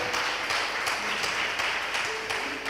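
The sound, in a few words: church congregation applauding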